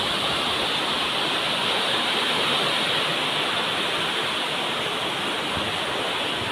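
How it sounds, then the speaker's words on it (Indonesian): Strong flow of the Bogowonto River in Purworejo, near the Kedungputri dam revitalization works, makes a loud, steady, full rushing roar that does not let up, with no voices. "ini debit air di Sungai Bogowonto teman-teman"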